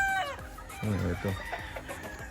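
A hen clucks at a gamefarm, a few close clucks in quick succession after a rooster-like call at the start, with faint background voices.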